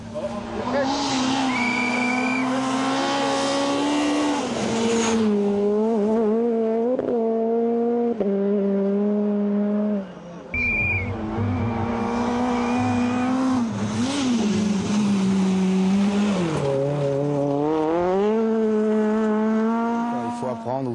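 A Renault R2 Max rally car, driven by Sébastien Ogier in 2008, races at full speed, its engine revving hard up and down through gear changes, loud and close, with a brief dip midway.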